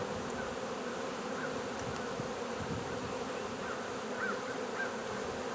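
A swarm of bees buzzes in a dense, continuous drone outdoors, steady and enveloping without pause, at moderate loudness.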